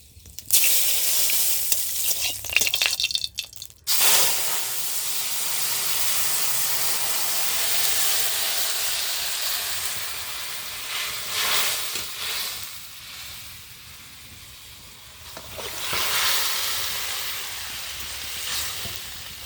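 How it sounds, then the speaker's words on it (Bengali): Whole cumin seeds and bay leaf sizzle in hot oil, a loud crackling hiss that bursts at the start, briefly drops away, then carries on steadily with swells and fades. "ফোড়নের জন্য গোটা জিরে আর তেজপাতা দিয়ে দিচ্ছি।"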